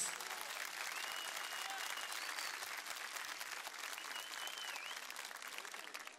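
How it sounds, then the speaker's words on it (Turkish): Crowd applause at an open-air political rally in a Turkish town, a steady distant roar of clapping with faint whistles and cheers throughout. "Atatürk gençliğini alkışlıyoruz."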